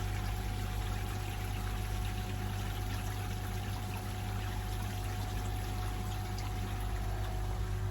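Water from a pump-fed bakki shower beside a full pond pours and trickles in a steady, continuous wash with a faint steady hum underneath and no talking.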